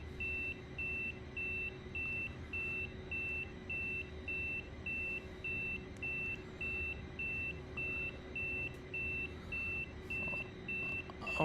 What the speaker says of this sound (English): Why are you beeping at me,